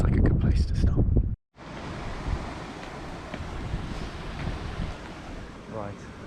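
Wind gusts roar across an open mountainside in Snowdonia, buffeting the microphone with broad rushing noise after a brief burst of speech and a sudden cut to silence.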